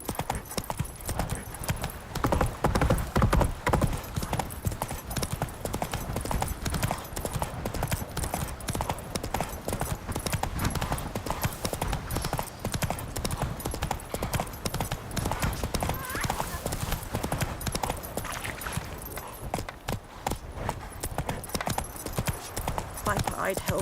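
Horse hooves clip-clopping in The Witcher 3 video game, a steady galloping rhythm carried through the whole stretch, with game dialogue voices spoken over it.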